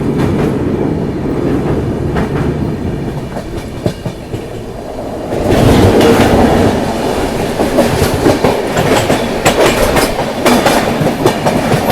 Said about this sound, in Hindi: बनारस एक्सप्रेस, नई दिल्ली बनारस।